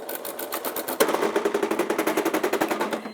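Domestic sewing machine running a straight stitch at high speed through bag kit fabric, a loud, close, rapid mechanical clatter that starts with a jolt and keeps an even chattering rhythm, with no voices.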